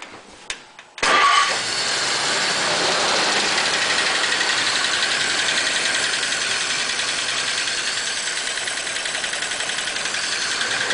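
A 1941 Pontiac engine cranks and catches after a brief pause, then settles into a steady, loud idle with a rapid rhythmic ticking from a sticking valve running throughout.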